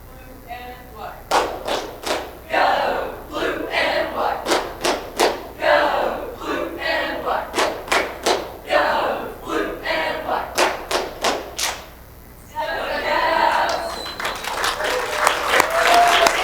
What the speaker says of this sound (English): they're going to come up here and do a cheer for you guys